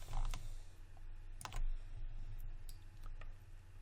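Keys tapped on a computer keyboard during 3D modelling work in Maya, a few sparse, close clicks and presses spaced irregularly over a low steady hum, quiet and with no talking.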